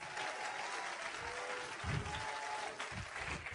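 A church congregation breaks into continuous applause, quiet and somewhat distant, with a few low thumps and faint tones under the steady clapping.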